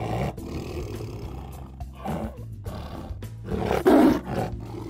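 A tiger lets out deep, rumbling roars, building to one loud, heavy roar near the end, with no voices over it.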